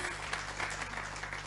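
An audience at an agribusiness summit on women in agribusiness claps steadily, a dense, even patter of many hands filling the short stretch with no voice over it.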